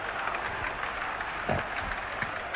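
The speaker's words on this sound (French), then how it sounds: "Emiliano Rodriguez revient sur le terrain, applaudi bien sûr." A faint, distant basketball crowd applauds a returning Real Madrid player during the 1967 European Cup final against Simmenthal Milano, with a muffled, narrow-band patter of clapping and a few low thumps.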